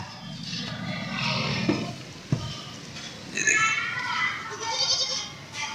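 A young goat, about nine to ten months old and recently given birth, bleats at a livestock market in wavering calls, close by, while someone talks over it.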